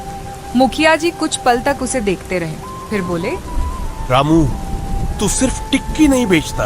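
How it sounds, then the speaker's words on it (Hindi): Steady rain falls in a village setting during a drama, a broad hiss running beneath a voice as he speaks, with a soft musical tone held in the background. "बारिश धीरे धीरे थमने लगी थी।"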